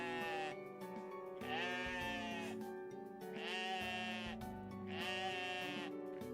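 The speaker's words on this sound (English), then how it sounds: "It's a goat." A ram bleating in the game OneShot, three drawn-out wavering bleats at a steady pace over soft background music, moderately loud and close, with no talking.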